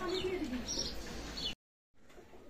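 Pakistani teddy pigeons coo in low, rolling calls over the first second and a half, close and fairly clear, followed by a brief drop to silence and then quieter background.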